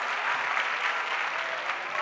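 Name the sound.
audience clapping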